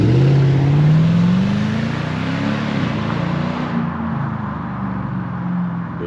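A Lexus SC430 engine revs at full throttle, rising loud and close before easing back to a lower drone.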